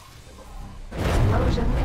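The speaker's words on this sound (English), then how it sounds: "Explosion." Spaceship explosion in the space simulator X4 Foundations: a sudden, loud, broadband blast about halfway through, rumbling on over low ambience with no talk.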